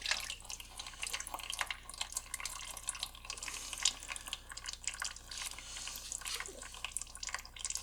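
Fluid drips and trickles from a loosened filter canister on a V12 engine that sat unused for years, with irregular wet patters and splashes close by, no talking.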